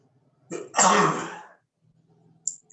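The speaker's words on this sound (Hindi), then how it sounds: "करते समय खांसी आ सकती है, छींके आ सकती है।" A single harsh cough bursts out after a short breath during yoga exercise, followed by quiet and a faint catch of breath at the end; no talking.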